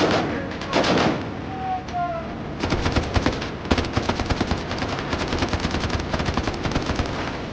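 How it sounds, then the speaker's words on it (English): Warning shots fired from a US Coast Guard cutter at an unidentified vessel: loud, rapid bursts of automatic gunfire cracking in quick, uneven volleys, with brief pauses between strings of shots. "Firing warning shot."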